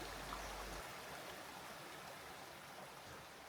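Gurica River stream flowing steadily, a continuous close broadband rush of water with no talk over it.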